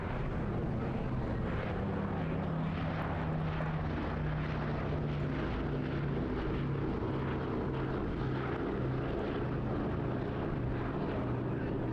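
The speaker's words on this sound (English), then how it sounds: "It's not just a B-17 Flying Fortress, but Sally B, a very special B-17." Boeing B-17 Flying Fortress warbird with piston radial engines flying over an international airshow at Eastbourne, a steady distant droning engine rumble that persists throughout, faint and broad under outdoor ambience.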